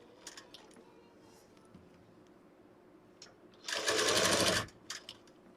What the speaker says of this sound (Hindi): आपको इस तरीके से दोनों कपड़ों को बराबर करते हुए इस पर आपको सिलाई लगाते जाना है।